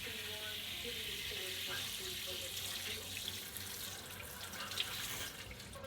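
Water running from a shower nozzle while hair is rinsed during bleaching, a steady hissing splash with faint voices and small clatters underneath, continuous and close.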